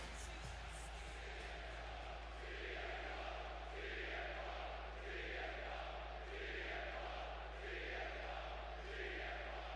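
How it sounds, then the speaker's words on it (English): A large arena crowd in Chicago roars steadily in the WWE 2K26 video game, with swelling waves of cheering rising and falling over a constant low hum, loud and continuous throughout. "And just listen to this crowd here in Chicago."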